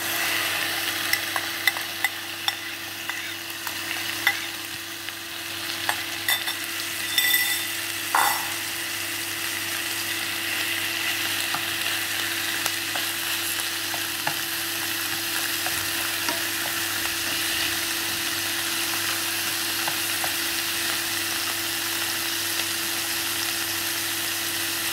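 Chicken pieces frying in hot oil for sweet chili chicken, giving a steady, close, continuous sizzle and bubbling crackle that holds at an even level throughout with scattered small pops and no talking.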